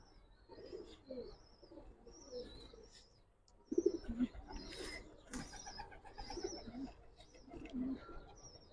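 Giribaz pigeons coo in low, repeated murmuring phrases at close range, with some chirps and background voices mixed in.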